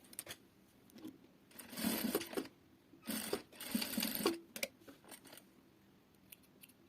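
A sewing machine stitches fabric for a turban in bursts, three longer runs of close whirring and clatter separated by quiet pauses, then a few short clicks near the end.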